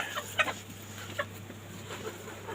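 Soft, scattered clucks from hens, a few short calls close by over a steady low hum and light background noise.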